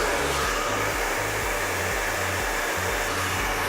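A hair dryer blows steadily while hair is blow-dried with a round brush, loud and constant, its pitch dipping slightly as the airflow is moved about.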